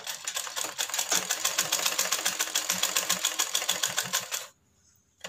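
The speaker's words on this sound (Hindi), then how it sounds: "सिलाई लगा लेते हैं।" A sewing machine stitches the shoulder joint of a baby girl's hanky-cut frock in a steady, rapid mechanical run lasting several seconds, close and loud, then stops abruptly into near silence.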